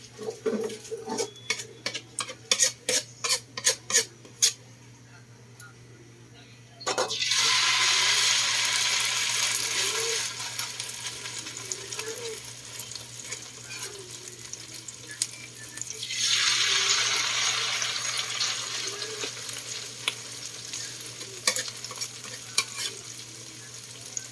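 Okoy vegetable fritters cook in a pan: clinks of utensils at first, then two long stretches of loud sizzling hiss as batter hits hot oil, with occasional scrapes and taps, no voices.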